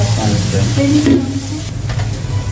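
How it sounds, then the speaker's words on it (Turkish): Onions, peppers and meat for a Turkish meat and vegetable stew fry loudly in a pan, a dense steady sizzle with a low background hum and a couple of brief stirring scrapes, close and without speech. "Kavurdum ben soğanımı, biberimi, etimi şunun içine aldım"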